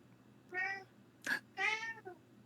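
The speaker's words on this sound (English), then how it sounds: "Sully just randomly meowing behind Casca." A cat meows twice, close and clear, with a short breathy sound between the two meows against a quiet background.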